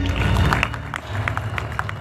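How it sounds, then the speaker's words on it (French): Audience applause at a live stage show in Abidjan, a dense burst of clapping that fills the short stretch while a voice talks over it. "S'il vous plaît, applaudissez très fort, Mariam"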